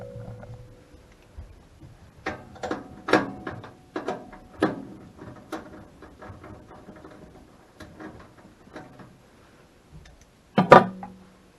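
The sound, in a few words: unscrewing a 1/4 inch screw to remove a Lennox furnace part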